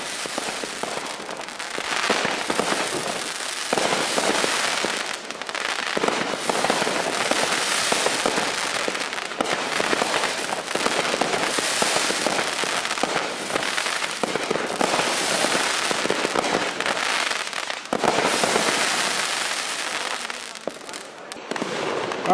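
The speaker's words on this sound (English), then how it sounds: "Pizza Apocalypse, another aerial finale set complete with 90 shots." Pizza Apocalypse, a 90-shot aerial finale firework set, fires in a dense, continuous barrage of loud launches, bangs and crackling bursts for over twenty seconds, with only brief dips between volleys.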